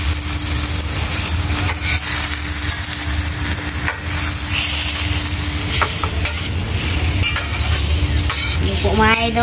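Chopsuey vegetables stir-fried in a hot pan, steady loud sizzling with repeated scraping and stirring strokes throughout, a utensil clinking near the end.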